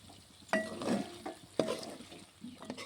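A spoon stirs chicken fry in a pan with chili powder, curry leaves and coriander, giving a few quiet scraping strokes over a soft background sizzle.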